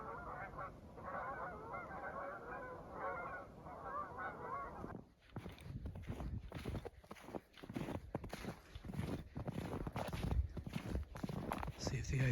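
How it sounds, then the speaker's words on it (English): A huge flock of geese honks steadily over a frozen lake at a winter campsite, then gives way to close, rhythmic footsteps crunching across the ice. "there's a huge flock of geese making a move. You can certainly hear them."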